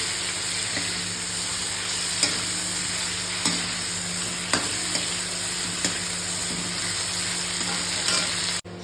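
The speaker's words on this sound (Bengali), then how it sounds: "এবার আমি নুন হলুদ দিয়ে এই ফুলকপি আর আলু একসাথে ভেজে দিচ্ছি।" Cauliflower florets and potatoes frying in hot oil with salt and turmeric, a steady close sizzle running throughout with faint stirring scrapes at intervals, no talking.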